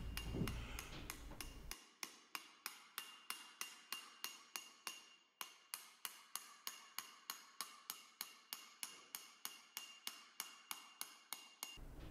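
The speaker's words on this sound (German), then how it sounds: "Mit leichten Treibschlägen ohne Kraft wird das Blech über die Fläche des Ambosses getrieben." A hammer planishes sheet metal over a dolly in a quick, steady rhythm of light, ringing blows, dozens of evenly spaced strikes with a bright metallic ping after a short rustle.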